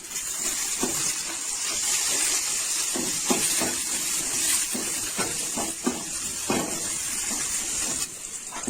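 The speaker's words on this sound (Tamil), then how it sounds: "ஒரு 2 நிமிஷம் போல இப்படியே வச்சிருந்தீங்கன்னா ஓரளவுக்கு நல்லா சவக்க வதங்கிடும்" Brinjal and drumstick sambar vegetables sauté with curry leaves in a pan, giving a steady hissing sizzle with scattered crackles and pops throughout, close and moderately loud, with no talking.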